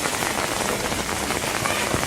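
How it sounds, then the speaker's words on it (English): Heavy rain falls steadily during Cyclone Burevi, a loud, dense patter drumming on surfaces without a break, with no voices over it. "the rain continuously raining"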